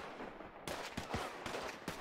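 Gunfire in the video game Counter-Strike, a quick cluster of four or five muffled, fairly distant shots in an uneven rhythm, heard faintly under a low background bed.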